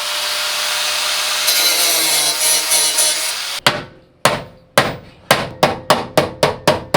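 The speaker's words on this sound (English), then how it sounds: "we could just hammer them down" Hammer blows strike a metal bash bar to fold down corner slits. A run of sharp, loud metallic impacts speeds up near the end, after a stretch of scraping or sawing noise at the start.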